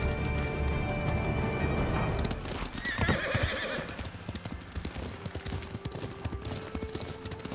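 Horses gallop in the Ghost of Tsushima video game, their quick clip-clop hoofbeats drumming steadily and close, with a sharp whinny rising near the start amid faint clattering.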